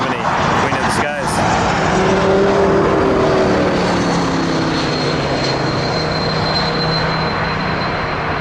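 A Swoop airliner passes on runway 23 at Toronto Pearson, a loud, sustained engine roar that swells and holds steady throughout, with a brief voice near the start.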